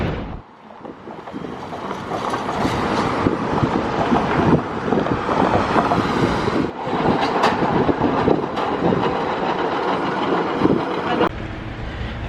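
A San Francisco tram passes near Lombard Street, a rumbling, clattering rail noise that builds and holds loud and close, with gusty wind buffeting the microphone.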